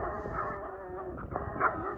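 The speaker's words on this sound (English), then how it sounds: "And also of note is a big white dog which almost charged Carson." A large white dog on a rural canyon road barks and whines at middle distance, layered over steady low wind or road rumble.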